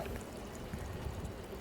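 Water pours steadily out of a pool leaf net as it is emptied, a brief continuous splashing gush heard close with no talk.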